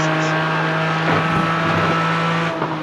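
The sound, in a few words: race car accelerating on track at Road Atlanta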